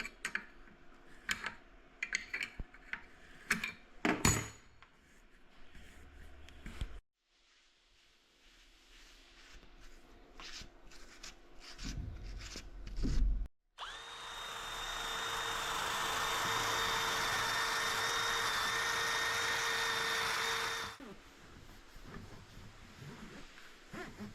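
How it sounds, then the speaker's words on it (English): Threads of a seized car coilover being cleaned: scattered scraping clicks and rubs, then a loud, steady rushing scrub that runs for several seconds before stopping abruptly. "Now we'll give a clean to these threads as well."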